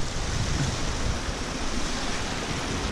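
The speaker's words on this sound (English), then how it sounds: "this river is flowing pretty well" A mountain river runs swiftly after heavy rain near Flagstaff, giving a loud, steady rushing roar of water with no talking.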